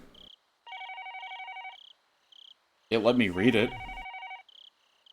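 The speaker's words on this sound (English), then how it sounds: "After a while, I finally realized the phone was ringing." Telephone ringing in the Higurashi video game, a repeating electronic ring in short bursts with pauses, interrupted midway by a person speaking over it.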